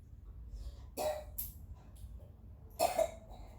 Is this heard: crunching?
no